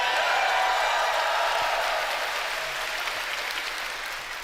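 A fan festival crowd in a large hall cheers and applauds, a dense, steady wash of clapping and shouts that fades slightly toward the end.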